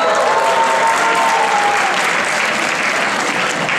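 Steady applause from an audience at a Gudi Padwa program, dense clapping holding at a loud level throughout with a brief tonal whine early on.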